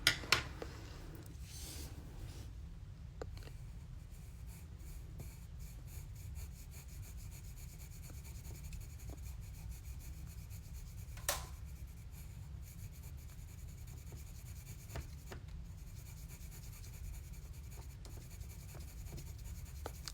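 Coloured pencils rub and scratch steadily across card stock while a fall-themed thank-you card is shaded in, a soft continuous scraping texture with a few light taps, close and quiet, no talking.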